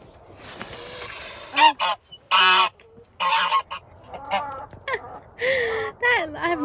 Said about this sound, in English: I've never heard a goose hiss before.